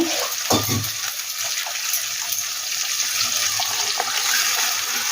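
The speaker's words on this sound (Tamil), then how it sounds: "இப்போ இதில் நம்ம தண்ணி ஆட் பண்ணிக்கலாம்." Steady water running and splashing into a pot of tomato curry for several seconds, close and fairly loud, with a brief clunk near the start.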